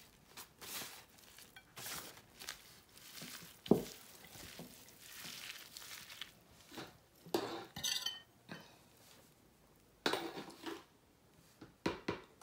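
Mashed radish and mrigal fish being mixed together by hand or spoon, with scattered clinks and soft squishes against a dish, quiet and close, with no talking.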